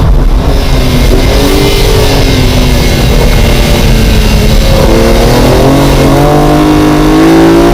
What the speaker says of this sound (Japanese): Will the M3 pass the NSX?